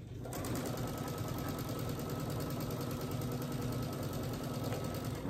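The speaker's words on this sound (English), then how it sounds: "Then we'll take this to the sewing machine and sew all the way down this seam right here." A sewing machine runs steadily and continuously along a long seam of a quilted table runner, its fast even needle rhythm holding at a constant moderate level throughout with no pauses.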